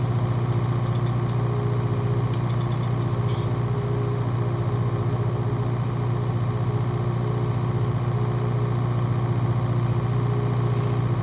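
A tractor engine in Farming Simulator 19 drones steadily and loudly throughout, a constant low mechanical hum with no break and no talking.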